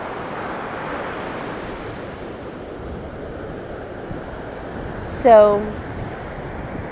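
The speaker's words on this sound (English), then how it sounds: "Just get overtaken by this ocean." Ocean surf rolls and breaks steadily along a shore, a continuous broad wash with wind noise on the microphone; a short voice is heard near the end.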